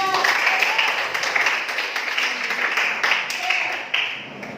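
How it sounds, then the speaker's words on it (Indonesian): A short burst of group clapping from a classroom full of people, scattered and uneven, fading slightly toward the end. "Oke, kasih tepuk tangan dia."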